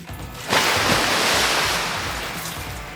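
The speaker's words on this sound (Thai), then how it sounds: "เราก็จะใช้น้ำเปล่านะครับ ในการล้างมันออกนะ" Plain water splashes and runs as a face is rinsed, a sudden loud rushing wash that starts about half a second in and then slowly fades while it keeps going.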